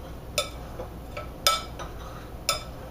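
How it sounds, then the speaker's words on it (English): A spoon stirring salt into cookie dough ingredients in a bowl for oatmeal cookies, giving four sparse, light clinks against the bowl about a second apart, fairly quiet over a soft background hiss. "just with my spoon, I'm going to stir it all together"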